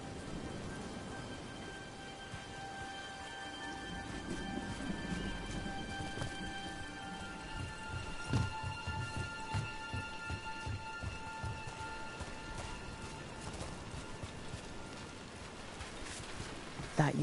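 Steady outdoor rainfall patters on surfaces with a soft, continuous hiss, fairly quiet and distant, with occasional heavier drips and faint low rumbles.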